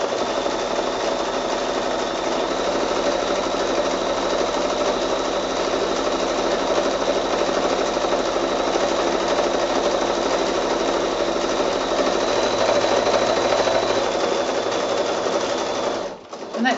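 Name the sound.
sewing machine free-motion quilting zigzag texture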